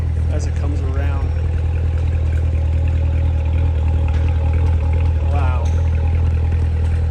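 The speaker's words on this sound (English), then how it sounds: "listen to this exhaust idling as it comes around" A 2019 Chevrolet Corvette Z06 with the Z07 package idles, its exhaust giving a steady, deep rumble close by while a person exclaims briefly over it.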